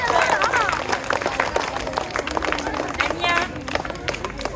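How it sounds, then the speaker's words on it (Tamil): Audience applause for karate students at a school event, with dense, steady clapping from a crowd throughout, mixed with chatter and scattered voices. "நல்லா கைத்தட்டு."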